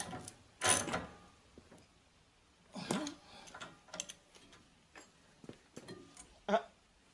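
A wrench ratchets in short clicking bursts while tightening a torsion-bar front suspension part, close up and fairly quiet, with a few separate metallic clicks and knocks spread through the clip.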